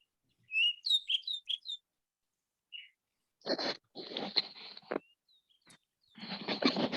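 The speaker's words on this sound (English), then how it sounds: "So this is the little olive warbler." Short high chirps and whistled notes in a quick burst, then scratchy buzzy calls repeated after pauses, an olive warbler calling close by in Arizona.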